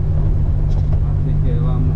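A car rolls slowly while being parked near a market, a steady low engine hum and rumble throughout with faint voices in the background.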